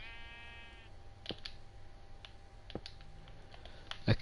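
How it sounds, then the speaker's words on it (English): A sheep in a survival video game gives a short bleat at the start, followed by scattered soft clicks and taps over quiet background tones. "What are you doing, sheep?"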